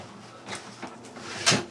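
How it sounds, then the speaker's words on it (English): An RV refrigerator's door panel slides out of its frame, producing short scraping and knocking sounds in quick succession, close and fairly quiet, ending in a sharper bump. "The door panel slides right outside"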